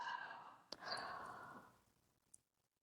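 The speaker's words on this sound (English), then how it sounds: "take a breath in through your nose. Open mouth, exhale." A single breathy exhale through an open mouth during a calm, guided breathing exercise, starting softly with a brief click and tapering away over about a second and a half, close and quiet with no talking.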